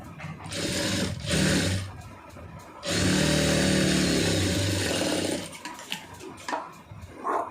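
A sewing machine stitches a cross-cut blouse lining in loud, steady runs, broken by short pauses between bursts and ending in brief, choppy stitching.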